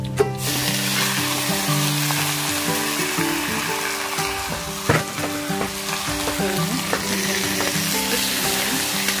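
Pork fries in a pan with a steady, close sizzle and occasional crackles and stirring scrapes, continuous throughout with no voices.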